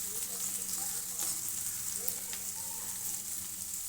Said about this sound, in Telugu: ఆనియన్స్ అనేది బాగా చక్కగా ఫ్రై అయితే అవనివ్వాలి